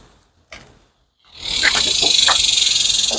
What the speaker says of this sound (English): You guys may also hear the cicadas